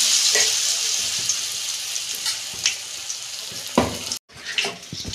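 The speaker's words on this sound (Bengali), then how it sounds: "ওই তেলেতেই আমি ভেজে নিচ্ছি।" Gram flour coated cauliflower pieces frying in hot oil, a close, steady hiss and crackle with scattered pops and stirring clatters, broken by a brief gap of silence.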